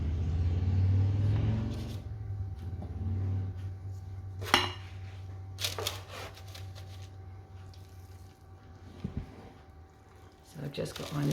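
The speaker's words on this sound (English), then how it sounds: "I've just got my mixture here and I'm just spooning it all in." Christmas cake mixture being spooned into a baking pan, with scattered scraping taps and knocks of a spoon against the pan over a low steady rumble and background noise.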